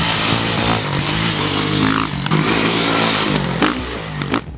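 A motocross motorcycle accelerates at steady throttle up a jump ramp, its engine buzzing loud and close with a brief dip and rev, no talk.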